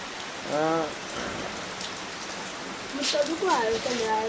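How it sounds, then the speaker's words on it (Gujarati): A dense, constant hiss of heavy rain pours down, with a couple of brief voices or calls rising faintly above it. "જોરદાર વરસાદ પડી રહ્યો છે"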